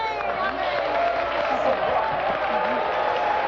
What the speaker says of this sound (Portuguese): eu acho que essas manifestações de aplauso, de vai a tudo, vocês têm que controlar um pouco